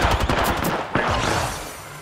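Rapid gunfire in the video game Apex Legends: dense, overlapping bursts of shots crackle continuously and stay loud throughout.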